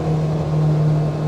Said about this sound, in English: And so you're going to have engine noise,